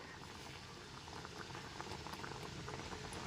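Raw green mangoes boil in a pot of water, a soft, continuous bubbling and gurgling that stays steady and fairly faint throughout, with no other sounds over it.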